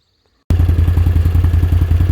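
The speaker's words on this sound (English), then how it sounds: "That's about 3 passes with the ATV and the harrow." An ATV engine pulling a harrow over a food plot starts abruptly after a brief silence, then runs loud and close with a steady, pulsing throb and rattling clatter.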